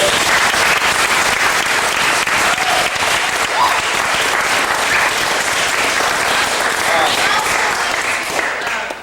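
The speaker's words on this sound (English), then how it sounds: "let's give them one more round of applause." Sustained audience applause fills a summer symposium hall, dense and steady clapping at close range holding loud throughout with no voices breaking through.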